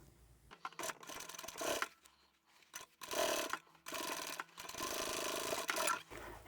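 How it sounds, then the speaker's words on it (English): Sewing machine stitching the boxed corner seam of a fabric bag, running in several short bursts of rapid whirring separated by brief pauses, close and moderately loud. "I'm going to sew 1 centimetre or 3/8 of an inch"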